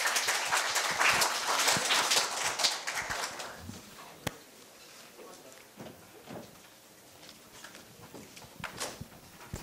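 Applause at a school speaking festival, a burst of clapping from the audience that fades after a few seconds into scattered knocks and room noise.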